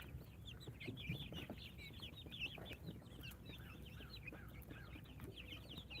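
Baby chicks peep in rapid, high, overlapping chirps, a faint, busy flock throughout.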